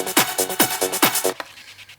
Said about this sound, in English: It becomes even more interesting if you are going to change that gator effect into a